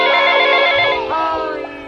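A phone ringtone chimes for an incoming call, a loud, bright melodic ring filling the whole two seconds with a slight dip midway, close and alone without talk.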